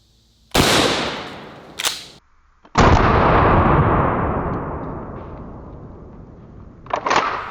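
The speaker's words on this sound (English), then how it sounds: "the Shockwave sounds quite a bit louder" A Shockwave shotgun fitted with a cylinder choke fires outdoors. Several very loud, close blasts ring out, each trailing off in a long echo, with pauses between the shots.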